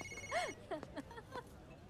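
A telephone rings in a Hindi action film scene, a faint, melodic electronic ringtone with a few quick tonal sweeps heard at a distance.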